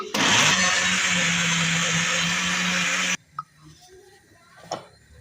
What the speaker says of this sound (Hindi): सारी इसी तरह आपने ग्राइंड कर लेनी है